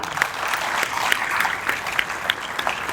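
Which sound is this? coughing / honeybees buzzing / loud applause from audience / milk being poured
loud applause from audience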